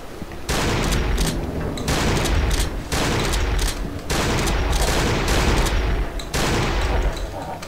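Rapid, loud gunfire in the horror video game Cry of Fear, with bursts of shots in quick succession broken by brief pauses, close and dominant throughout.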